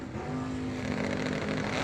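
A Camaro launches at a drag racing event, its engine revving hard with a rising tone and steady growl as it pulls away down the right lane, heard alone without talk.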